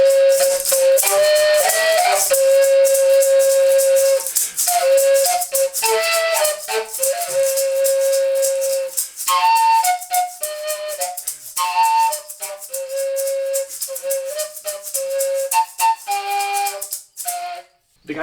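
A gaita macho, the two-hole Colombian duct flute, plays a bright, breathy melodic line in short repeated phrases with pauses, close and loud, accompanied by a light rattling shaker.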